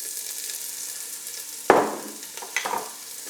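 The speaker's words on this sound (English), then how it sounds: "Now just going to put in the onions" Onions hit hot oil in a pan with a sharp burst of sizzling, then keep frying under a soft hiss while a couple of smaller spatters and stirring scrapes follow, close and fairly quiet.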